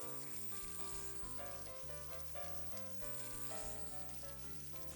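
Grouper fillets frying face side down in a hot, smoking pan give off a steady, dense sizzle, faint and continuous throughout.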